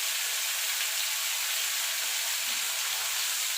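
Ridge gourd fries in a covered pan, giving a steady, close, broadband sizzling hiss with faint stirring underneath, no voices.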